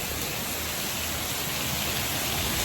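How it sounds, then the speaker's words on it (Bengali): Heavy pouring rain during a storm, a steady dense hiss that fills the whole clip without pause, loud and close with no voices over it. "মানে এত মুষলধারে বৃষ্টি হচ্ছে, এত বৃষ্টি হচ্ছে"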